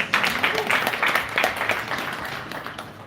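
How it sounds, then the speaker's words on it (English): An audience breaks into applause, a broad crackle of many hands clapping that starts strongly, holds steady, then gradually thins and fades toward the end. "An applause for Rwanda, please."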